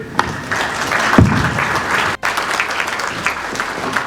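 Steady applause from an audience at an opening ceremony fills the space, sustained clapping with a brief dip partway through.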